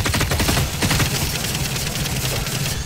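Rapid bursts of automatic gunfire crackle continuously, dense and loud, a heated firefight in the video game The Cycle: Frontier.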